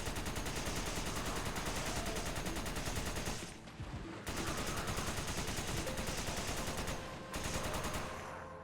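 A SIG 556 machine gun in Resident Evil 5 fires rapid sustained automatic bursts, loud and close, with two short pauses between long strings of shots and no voices.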